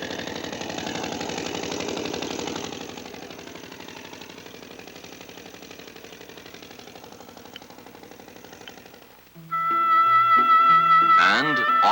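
Rice reaping machines work the autumn fields in Japan, giving a steady mid-pitched engine drone that holds for most of the stretch. It then gives way to a louder, brighter burst with tonal, musical-sounding content.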